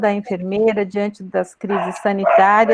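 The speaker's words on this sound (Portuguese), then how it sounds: "desculpa o meu cachorro" A dog barks and yips in quick bursts from nearby, mixed in with someone speaking Portuguese in a formal address.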